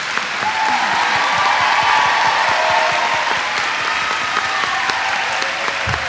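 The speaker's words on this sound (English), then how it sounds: "A round of applause for all of us." A large commencement crowd at the 2018 TCNJ education ceremony applauds steadily for over six seconds, a thick, even wash of clapping with a few sharper hand strikes standing out near the end.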